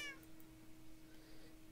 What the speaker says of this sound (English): Meow! Yes, meow.